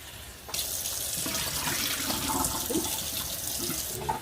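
Tap water runs steadily into a kitchen sink as raw shrimp are rinsed, a soft continuous splashing that starts suddenly and carries on at a fairly quiet, even level with small irregular spatters.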